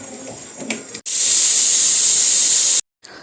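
A pressure cooker cooking dal khichdi lets off steam in a loud, steady hiss lasting nearly two seconds. It is preceded by faint kitchen sounds and cut off sharply.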